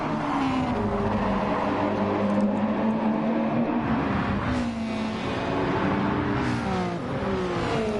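Racing cars at Autopolis, Japan, in a PS4 racing game roar close by with a continuous whining engine drone that rises and falls as they accelerate and shift, heard alone without voices.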